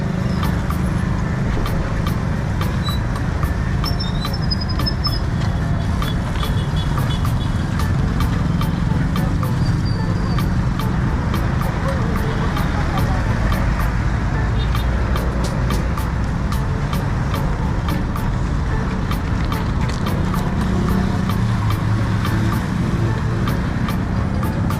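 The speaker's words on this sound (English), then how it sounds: "So this is how traffic is here at the moment." Evening road traffic in Kampala near a footbridge and flyover construction site, a steady wash of car and truck engines and tyre noise with occasional horn-like tones and ticking clatter, continuous and fairly loud throughout.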